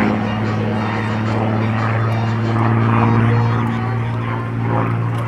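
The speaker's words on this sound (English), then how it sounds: "It's beautiful, P-51." A P-51D Mustang propeller fighter drones overhead during an air show display, a loud, steady engine and propeller hum that swells slightly and then eases, with talk partly underneath.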